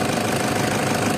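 A Toyota Fortuner VNT diesel engine idling with the hood open, heard as a close, steady, even rumble with a fine knocking texture and no voices.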